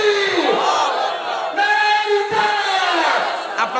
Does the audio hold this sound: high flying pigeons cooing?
no